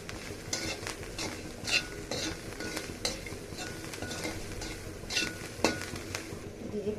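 Thankuni leaves and potato fry in a pan with a soft sizzle as a spoon scrapes and stirs in quick repeated strokes, close and moderately loud, no voices.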